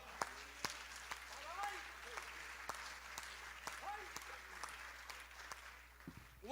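A church congregation applauds during a worship service, a steady patter of clapping with sharp individual claps standing out and some murmuring voices underneath, fairly distant and moderate in level.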